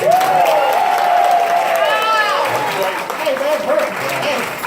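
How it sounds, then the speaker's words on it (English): Audience applause at a sock hop event, a round for group leaders, escorts and drivers; loud clapping and crowd noise under a sustained whistling or vocal tone and bits of voice. "How about a nice round for all your group leaders, escorts, and drivers?"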